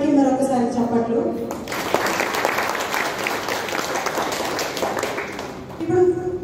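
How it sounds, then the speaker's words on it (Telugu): An audience claps loudly for children after their dance performance, a dense burst of applause that swells and fades, with a speaker's voice before and after it. "పిల్లలందరికీ మరొకసారి చప్పట్లు"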